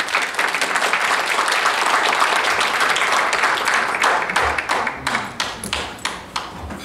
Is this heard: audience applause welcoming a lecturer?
yes